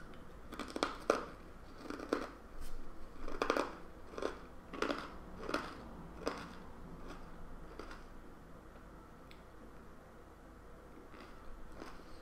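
Crunchy little brown sour snacks being chewed up close, with a run of crisp bites and crunches in the first half that thin out into a few sparse, softer chews later on, no talking.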